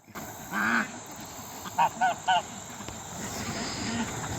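Farm ducks being let out toward a pond give a few honking quacks, one call early then a quick run of three, moderately close over outdoor background noise.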